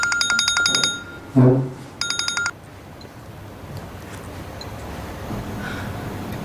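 A telephone rings with bright electronic trills, two short bursts separated by a brief gap, then only quiet room noise follows.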